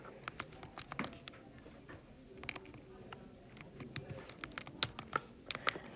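Number keys on a calculator tapped in quick irregular clicks and clusters, close and fairly quiet, with soft room sound between presses.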